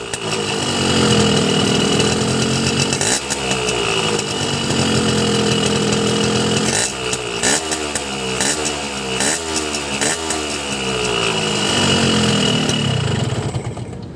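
A Stihl two-stroke chainsaw engine idles roughly, then revs up hard several times in quick rising bursts before settling back, loud and close.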